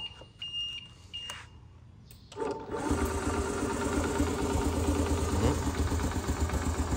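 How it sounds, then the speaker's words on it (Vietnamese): A Honda Super Cub 70cc motorcycle engine starts after a few seconds of quiet clicks, then holds a steady, even idle close by. "giờ em test cái đề từ cho anh em mình nghe ha"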